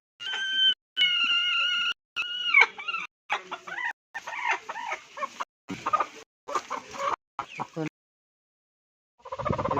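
Country hens of an Aseel-type flock cluck repeatedly near their eggs in short, close, insistent bursts with brief gaps, the calls growing busier and more rasping before falling silent and then resuming.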